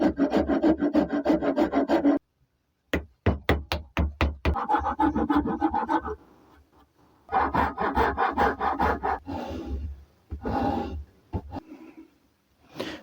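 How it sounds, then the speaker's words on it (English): A rasp and chisel shape a block of wood by hand, rhythmic bursts of rough scraping strokes in quick series, separated by short pauses, close and loud with no speech. "shaping it with just chisel and a rasp is taking a long time"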